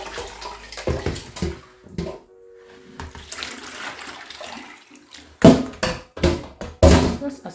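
Nigerian stone rice is washed by hand in water to float off the chaff, with close splashing, sloshing and knocking of grains and water in uneven bursts, separated by quieter pauses.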